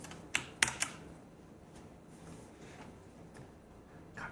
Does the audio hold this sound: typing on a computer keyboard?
yes